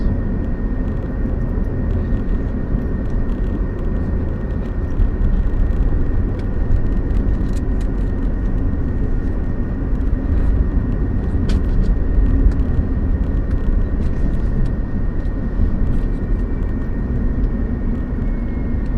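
Continuous aircraft noise at an airport: a steady, loud roar and whir with a faint high tone, holding level throughout with no talk.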